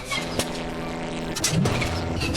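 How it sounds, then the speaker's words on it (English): A struggling flying-vehicle engine in a video game labors at high altitude, a steady droning hum with a brief rising strain near the end, fairly loud and alone. "Sounds like our engine is struggling up here."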